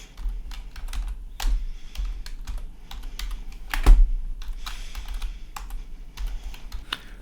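Username and password typed on a computer keyboard, a quick irregular run of crisp key clicks with short pauses and one louder keystroke near the middle, close and clear, no voices.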